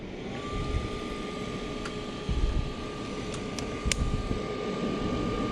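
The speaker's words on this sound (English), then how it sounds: "Draft inducer's on." Gas furnace draft inducer fan spinning up with a steady whine that starts early and holds over a broad airy hum, with a few faint clicks and thumps.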